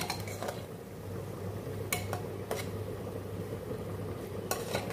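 A spoon scrapes and clinks against a pan while milk powder is stirred into carrot halwa, with a steady low hum underneath and a few sharp metallic taps.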